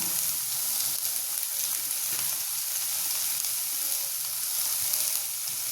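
Green pumpkin stir-fry with coconut and a little sugar sizzles steadily in a pan, a dense close hiss with faint stirring, constant throughout and without talk.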